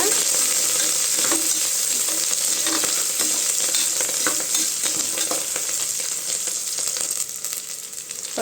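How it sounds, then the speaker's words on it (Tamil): Chopped onions fry and are stirred in a pan for Tamil vegetable rice, giving a loud, steady sizzle with scattered scraping stirs throughout, no voices. "வெங்காயம் நல்லா வதங்கணுங்க"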